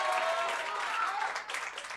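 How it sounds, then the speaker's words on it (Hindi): An audience applauds a teacher at a Sanskrit exam-prep class, broadband clapping filling the room steadily from start to finish with no break. "तो एक बार सर राहुल सर के लिए तालियां आप लोग बजा दें"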